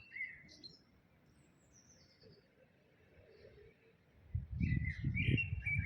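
Small birds chirp and twitter in short bright bursts, quiet at first, then a louder flurry of calls and fluttering near the end.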